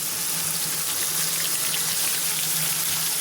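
Coarsely ground onions frying in a pan for banana kofta curry give off a steady, moderately loud broadband sizzle that continues without a break through the short stretch, and no one talks over it.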